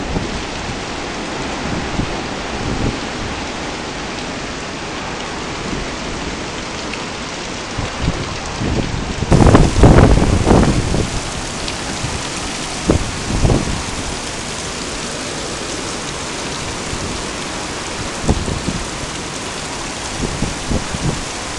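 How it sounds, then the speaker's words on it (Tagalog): Heavy rain pours down steadily while strong gusts of wind surge beside a warehouse, with a loud burst of rushing noise partway through and scattered sharp splashes. "Sobrang lakas ng hangin sa ulan."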